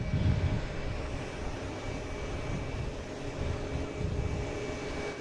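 Steady broadband roar of an Airbus A380 jet engine exhaust, heard from some distance as a continuous even rumble with a faint tonal whine, no voices.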